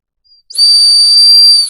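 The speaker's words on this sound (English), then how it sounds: "But I found the whistle again." A whistle gives one sharp, loud, shrill blast of about a second, preceded by a tiny faint peep.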